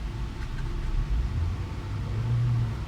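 Engine of a Chevrolet Zafira seven-seat family car with a 1.8-litre motor, a low steady rumble rising slightly as the throttle is pressed, heard from inside the car with no talking.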